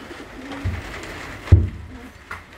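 Young pigeons cooing outdoors near ground feeders during training, a few soft low coos close by with a louder coo in the middle, no talking.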